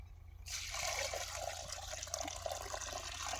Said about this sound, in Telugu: ఆ నీళ్ళు అందులో పోయి